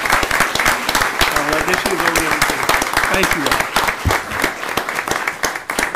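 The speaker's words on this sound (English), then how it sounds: "We ought to give them a great round of applause." Applause from the audience at a county board of commissioners meeting, a steady dense clapping that runs loud and unbroken throughout, with a voice speaking briefly over it.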